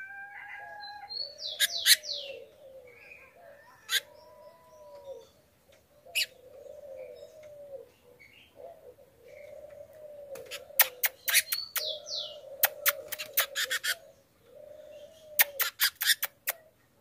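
A caged female rufous-collared sparrow (tico-tico) calls close by, giving repeated sharp chirps and thin whistled notes in irregular bursts, with quick clusters of clicks toward the end, over a quiet background.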